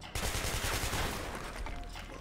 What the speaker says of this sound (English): Let's switch over to the assault rifle.